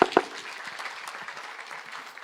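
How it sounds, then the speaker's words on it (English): Audience applause at a financial literacy and wealth creation training conference: a couple of sharp claps open, then soft, diffuse clapping from a crowd continues briefly. "a round of applause to him, please"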